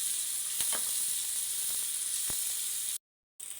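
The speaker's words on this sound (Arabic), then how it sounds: "من بعد ما تحمرت لينا البصله على هذا الشكل هذا" Octopus and browned onion fry in oil, giving a steady, close sizzling hiss with a few small pops. The sound cuts out briefly near the end.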